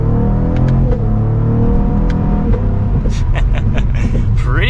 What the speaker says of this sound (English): we are setting off now in the CT4-V Blackwing